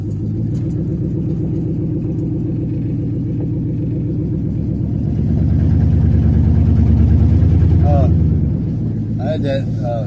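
A truck engine rumbles steadily while driving, its low drone swelling louder for a few seconds mid-way before settling again, with a voice briefly audible over it near the end.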